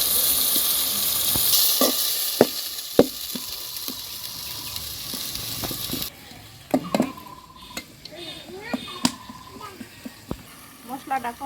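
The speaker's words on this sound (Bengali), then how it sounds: "মশলাটা কষা হয়ে গেল" Spices with turmeric, cumin, ginger and garlic frying in a pan for a lentil and Malabar spinach dish, a steady hiss with scattered clicks and scrapes of stirring, then quieter and sparser toward the end.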